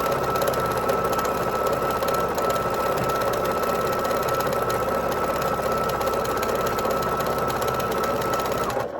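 A domestic sewing machine, set on a table rather than inset, runs steadily and close by while stitching quilt blocks, its motor hum and rapid needle chatter continuous throughout with no talk.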